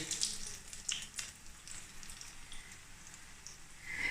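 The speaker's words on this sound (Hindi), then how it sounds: "तो बहुत ही कम ऑयल में ये फ्राई हो जाते हैं" Bread kababs frying in a little oil over a low flame give a steady, quiet sizzle with scattered crackling pops and no talking.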